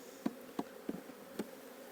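Faint, steady buzzing of honey bees close by at an open hive, with a few soft knocks at irregular intervals.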